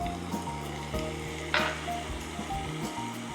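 Vegetables and tomato fry on a tawa for Mumbai masala pav, giving a steady, close sizzle broken by spatula stirring and one brief louder hiss.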